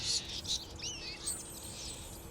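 Small birds in the video game Castlevania: Lords of Shadow chirp and twitter in short, high calls, clustered near the start and scattered throughout, over a low rumbling game background.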